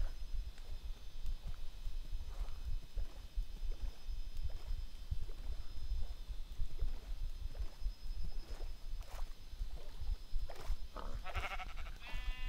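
Sheep in Minecraft bleat repeatedly in short, evenly spaced calls over a low rumbling background, with a brief sharp effect near the end.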